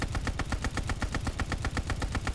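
Rapid automatic fire from a KG M40 rifle in a search-and-destroy video game match, loud, steady bursts repeating roughly every tenth of a second throughout, with no voices.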